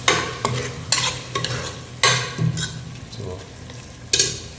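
Mint and coriander paste fried and stirred in a pan for beef biryani, several sharp scraping strokes over a constant sizzle, close and loud, with a brief spoken word.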